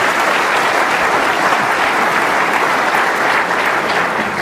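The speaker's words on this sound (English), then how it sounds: "Nice round of applause from Peter Ebden" Sustained applause from a snooker audience at the 2012 World Championship final, a dense, steady wash of many hands clapping close and loud throughout, with no talk over it.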